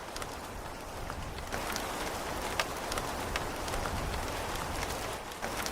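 Steady rain patters on a surface, a constant hiss with scattered louder drops, moderately close and unbroken.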